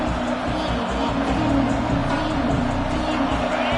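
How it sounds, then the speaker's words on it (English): Roaring stadium crowd at a Penn State versus Ohio State football game, a loud, sustained wash of noise that stays dense and unbroken throughout. "This crowd bringing an ear-splitting welcome to their visitors."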